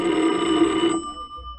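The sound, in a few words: telephone ringing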